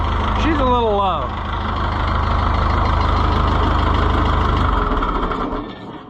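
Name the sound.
Oliver 1365 tractor engine idling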